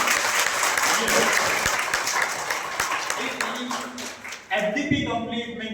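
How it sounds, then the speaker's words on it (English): A crowd claps loudly and steadily while a voice speaks over it. The applause fades and a brief musical tone follows. "Big round of applause for coordinator and co-coordinator."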